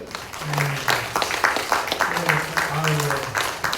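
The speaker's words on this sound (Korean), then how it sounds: "우리 박수로 환영할까요?" A church congregation claps to welcome a missionary family serving in Indonesia, steady applause running throughout while voices talk clearly over it.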